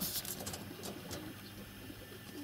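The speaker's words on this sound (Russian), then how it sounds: "Голуби как дерутся здесь за свое место на кормушке." Pigeons scuffle at a feeder in January, with soft cooing and rustling flutters, brief sharp wingbeat bursts near the start and around one second, over steady low background noise.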